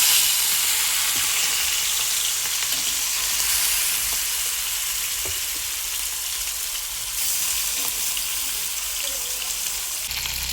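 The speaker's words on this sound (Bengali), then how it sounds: "তেল গরম হয়ে গেছে। এবার মাছগুলো ভেজে নেব।" Prawns fry in hot oil in a wok, giving a steady, dense sizzle that runs loud and unbroken throughout, with a few faint clinks of a utensil beneath it.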